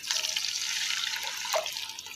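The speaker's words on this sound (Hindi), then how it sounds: "अब मैं 1 गिलास पानी शामिल करूंगी" Water poured from a glass into a pan of oil and sugar while making peanut halwa, a steady close splashing pour that swells briefly near the end.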